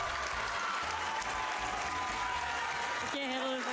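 A crowd and commentators on a Twitch charity stream cheer and applaud loudly together. The roar of clapping and shouting carries over music, and a voice cuts in near the end.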